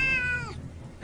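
A cat gives a single close meow that slides downward and fades, followed by a short sharp sound at the end.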